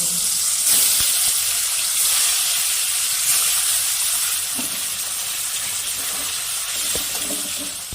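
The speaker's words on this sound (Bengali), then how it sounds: "বাকি মাছগুলো আমি এইভাবে ভেজে নেব" Pieces of bele fish fry in hot oil in a pan, giving off a loud, continuous sizzling hiss that holds steady throughout with no one speaking.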